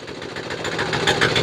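A Chinese 168F single-cylinder diesel running on homemade diesel fuel chugs in a rapid, steady knocking rhythm, close and fairly loud, with a rattling, vibrating texture.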